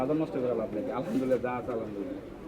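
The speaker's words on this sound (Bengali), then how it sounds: "অনেক সুন্দর সুন্দর কবুতর নিয়ে বসে আছে" Pigeons coo at a busy pigeon market in Bangladesh, a soft, steady murmur of birds close by beneath someone talking throughout.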